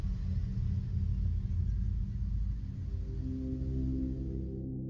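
Car engine idling just after starting up, a steady low rumble holding throughout with a slight settling in tone near the end, no voices.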